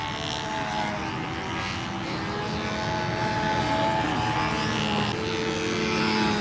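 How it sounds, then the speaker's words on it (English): An SV11 model airplane with a PA-51 engine drones in flight outdoors, a continuous buzzing engine note that rises and falls slightly as it passes at moderate distance, with no voices. "Next up, Mike Cooper flying an SV11 with a PA-51"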